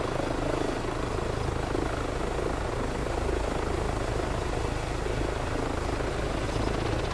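Engine drone from the Hughes Hercules flying boat in Microsoft Flight Simulator, a dense, steady roar that holds at constant loudness for the whole stretch, with no talk over it.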